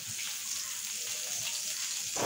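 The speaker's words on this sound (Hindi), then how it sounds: "तेल डाल के थोड़ा सा आलू फ्राई कर लेंगे" Potatoes frying in hot oil for prawn curd pulao, a steady close hiss and crackle of sizzling that stays even and then swells slightly louder at the very end.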